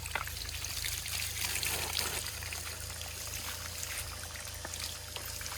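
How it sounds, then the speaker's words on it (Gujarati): Water is poured and splashed over a large buffalo during a bath, a steady trickling and pouring close by with scattered small splashes. "આ ભેંસ મોટી ભેંસને નવરાવાનું ચાલુ કરી દીધું છે"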